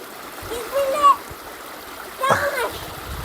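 Stones tossed into a river by a historic water bridge in Cappadocia land with two short splashes over a steady stream, while an adult and someone talk nearby.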